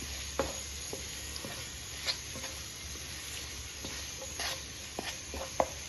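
Chickpeas sautéing in a pan with a little salt for chana masala, giving a low steady sizzle broken by occasional sharp stirring scrapes and taps of a utensil, with no talking.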